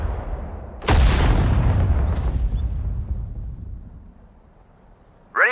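A single heavy artillery gun blast in the World War II strategy game Sudden Strike 4, set in the Hurtgen Forest battle, booms loud and close, then rolls away in a long fading rumble before a faint new sound starts at the end.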